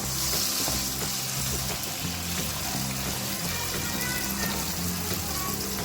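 Tomatoes, with a chili or two, frying in a pan for phali qeema give a steady, close sizzle that stays even and unbroken throughout, with no talking.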